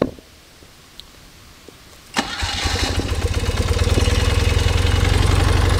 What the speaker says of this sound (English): Electric start works beautifully.